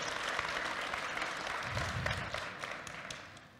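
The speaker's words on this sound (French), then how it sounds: "Malik, sous vos applaudissements" The audience at a closing evening for a Web3 startup incubator applauds a founder coming on stage, a sustained, fairly loud clapping that tapers off toward the end.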